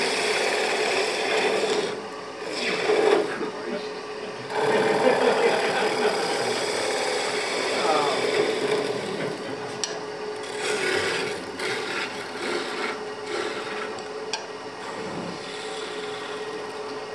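A skew chisel cuts wood spinning on a lathe, a continuous raspy scraping hiss that swells and eases as the tool moves, with faint clicks and occasional quiet talk.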